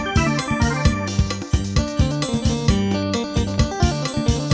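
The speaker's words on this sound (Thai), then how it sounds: "อันนี้เสียงออกแกนแซมนะครับ" Casio CTK-4400 electronic keyboard layering organ and saxophone voices over an Isan Thai rhythm, held chords pulsing in a repeating pattern with steady drum hits, loud and close with no talking.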